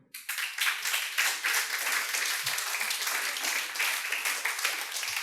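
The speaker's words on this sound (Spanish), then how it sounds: "Un aplauso al Señor." A church congregation applauding during a Spanish-language worship service, with steady, rhythmic clapping that starts abruptly and continues evenly at a moderate level throughout.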